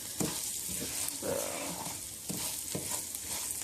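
Rice browns in a hot pan with a steady close sizzle, interrupted by several dull scrapes and knocks as it is stirred; no voices.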